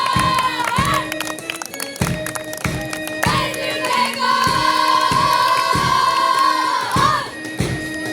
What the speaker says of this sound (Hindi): तालियों की गूंज के साथ